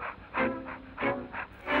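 A voice actor imitates a dog panting for Pluto the cartoon dog, quick rhythmic breathy huffs repeating close to the microphone in a short, steady pattern.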